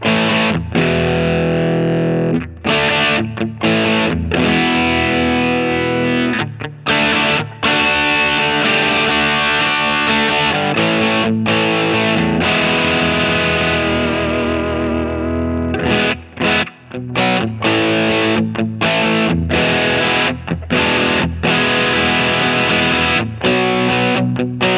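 Extended loud riffing on electric guitar through a Mosky Obsessive handmade overdrive pedal: gritty, saturated chords with frequent short stops and restarts, a long sustained passage in the middle, and no talking.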